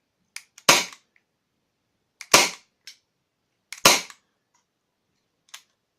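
Airsoft gun with its original silencer fired during a chronograph test, three sharp, close, dry cracks spaced about 1.5 seconds apart, each preceded by small mechanical clicks, in otherwise near silence.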